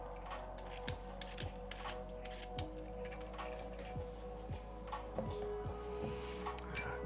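Scissors or a knife cutting through vegetable joints before peeling in a kitchen, giving regular crisp snips roughly once a second over a steady hum.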